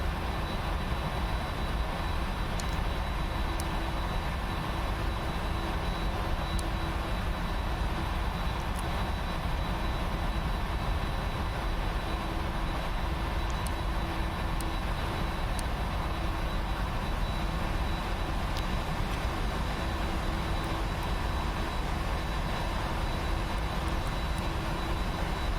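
Boeing 747 jet engines drone at idle in the PMDG flight simulator after start, a steady, unbroken whine and roar at an even level throughout, with no talking.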